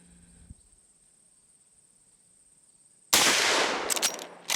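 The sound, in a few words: gunshots from Marlin 1894 .44 Magnum rifle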